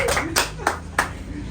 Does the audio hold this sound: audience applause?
yes